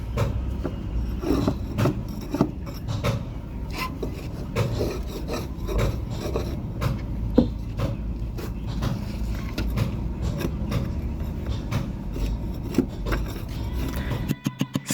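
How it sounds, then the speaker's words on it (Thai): Steady rasping and scraping strokes along the seams of a wooden boat hull, continuous and close, with short irregular bursts and a few sharp knocks near the end. "นี่แซะหมดเลยนะครับผม แซะทุกแนว"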